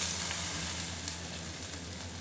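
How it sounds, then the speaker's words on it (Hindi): Diced potatoes frying in ghee with cumin, a steady bright sizzle with a few soft crackles, close and continuous, with no voices. "अब इसको मैं गुलाबी होने तक भूनूंगी और पकाऊंगी भी।"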